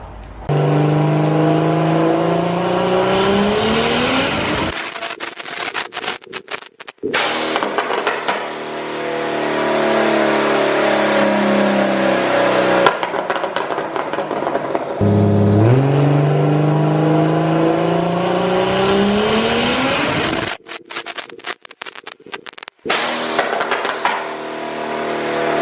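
A car revs hard on a dyno during repeated power pulls, the engine note climbing in long sweeping runs, then dropping to choppy off-throttle bursts between pulls, loud and close throughout.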